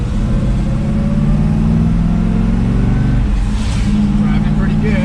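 A 1973 Camaro Z28 engine idles and rumbles steadily, a deep, loud, continuous growl heard from close by inside the car.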